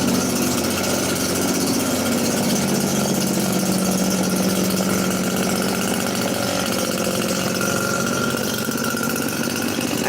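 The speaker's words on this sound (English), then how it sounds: "I know there's a lot of gasoline coming out of that non-organic blower" A gasoline-powered leaf blower runs outdoors, giving a steady, droning engine whine with a low rumble. It holds at one level without pause for about ten seconds, and no one speaks over it.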